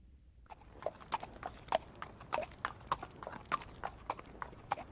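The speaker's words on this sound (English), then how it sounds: "horse" Hooves clip-clop at a steady walking pace on a hard surface, a dozen or so crisp hoofbeats, fairly near, with no voices.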